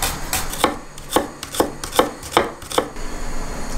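Onion being chopped finely with a knife on a cutting board, about seven sharp, fairly regular knife strikes close by with no talking.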